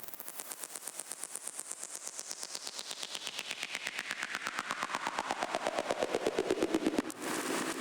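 A synthesized psytrance ratchet effect built in Serum: a rapid, evenly pulsed clicking stream whose pitch sweeps steadily downward while its rate holds, growing louder and denser before cutting off abruptly near the end.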